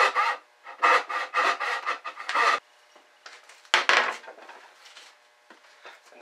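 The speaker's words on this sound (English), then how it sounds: "To start the wedge, I use a simple handsaw." A simple handsaw cuts into wood to start a wedge, giving a close series of rhythmic rasping strokes, about a dozen back-and-forth passes with short pauses between bursts.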